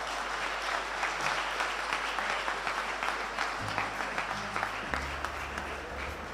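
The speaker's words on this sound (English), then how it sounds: "I'd like you to give them all a round of applause." Audience applauding at a Grade 8 school awards ceremony, a steady sustained wash of many hands clapping in a hall, with low hum and faint murmurs underneath.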